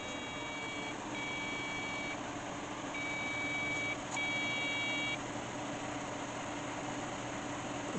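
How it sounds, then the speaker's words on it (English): A gaming PC's built-in motherboard speaker gives a steady electronic POST beep tone over the constant whir of computer fans, sounding in a few separate bursts, close and moderately loud. "Oh, we've got a beep."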